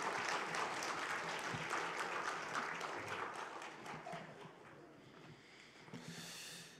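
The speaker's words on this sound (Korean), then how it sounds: "우리 다시 한번 친구들에게 박수 한번 부탁드립니다." Church congregation clapping during a Sunday worship service, loud at first and then gradually thinning and fading, with a brief burst of sound near the end.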